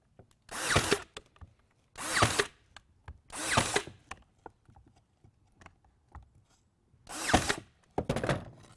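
A pneumatic nail gun drives 18 gauge 1.25 inch nails into a crown molding jig, five sharp, loud bursts spaced about a second or more apart, with quiet gaps between shots.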